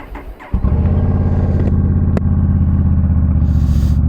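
A Honda Rebel 1100 DCT motorcycle engine cranks briefly and catches with a sudden burst, then settles into a loud, close, steady throbbing idle that continues to the end.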